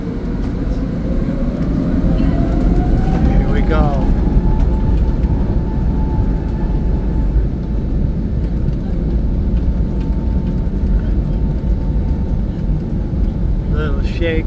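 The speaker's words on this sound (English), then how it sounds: "you hear those engines firing up?" Airliner jet engines spool up for takeoff at Detroit Metro Airport (DTW), a loud steady roar with a rising whine, heard from inside the cabin, with a voice speaking briefly near the start and faint chatter later.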